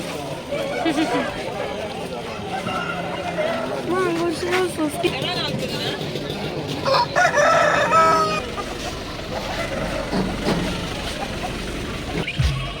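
Chickens cluck and a rooster crows several times nearby at a weekly livestock market while people chatter in the background.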